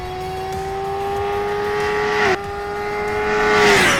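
A 2021 Suzuki Hayabusa motorcycle engine holds a loud, steady high-pitched drone. It dips sharply for a moment midway, as at a gear change, then climbs again toward the end, with no talking.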